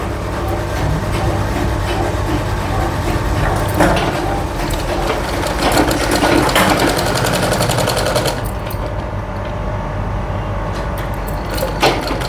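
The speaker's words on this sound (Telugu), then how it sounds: "మళ్ళీ అదే థ్రెడ్ పక్కనే కుట్టు రావాలి" A sewing machine runs loud and steady, stitching piping onto a blouse in a continuous close whir with brief pauses and restarts, with no voices.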